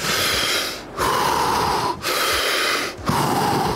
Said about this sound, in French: On va faire de l'hyperventilation.